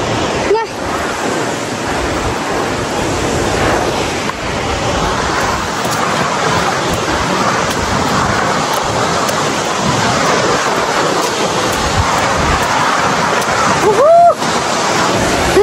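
A waterfall roars close by in Nepal, a loud, unbroken rushing wash of falling water and spray that soaks the surroundings, with brief voices heard under the noise.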